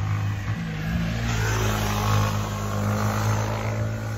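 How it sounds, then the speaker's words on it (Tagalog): A motorcycle passes nearby at a quiet resort with cottages and a swimming spot in Infant, a steady engine drone holding loud throughout. "Kaya may dadaan na motor."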